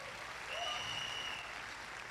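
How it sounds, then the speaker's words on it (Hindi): Audience at a celebration event claps steadily in a continuous soft wash of applause, fairly distant and faint, with a brief whistle-like tone in the middle. "जोरदार ताली हमारे स्पॉन्सर"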